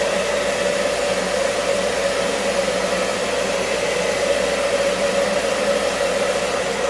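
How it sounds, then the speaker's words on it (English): A blow dryer set to high heat and low air runs close by during a cosmetology clipper-cutting lesson, giving a steady, unbroken airy whoosh with no voices over it. "I'm going to use my blow dryer. High heat, low air."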